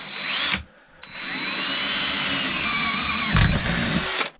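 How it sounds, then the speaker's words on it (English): A power drill bores a hole through the center of a metal flange during a Predator 212 engine swap on a pit bike, whining steadily at close range after a brief start and pause. "So now what we need to do is drill a hole in the center of this"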